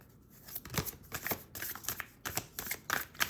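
Star seed oracle cards shuffled by hand at close range, a quick, irregular run of soft riffling and slapping bursts that repeats for several seconds, fairly quiet, with no talk.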